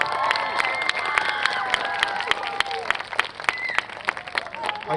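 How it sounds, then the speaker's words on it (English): Concert audience at a student string-orchestra night applauds and cheers: continuous clapping with shouts and high whoops from a crowd that includes children, at moderate distance. "give them a round of applause for helping us out"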